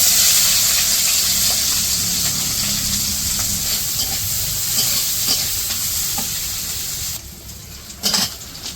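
Onion and green chili frying in hot oil in a wok, a loud continuous sizzle with stirring scrapes, easing slightly before a brief burst of renewed sizzling near the end.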